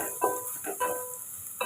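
A curry mixture with chilli powder is sautéed in a pan, giving a soft steady sizzle with a few stirring scrapes close by.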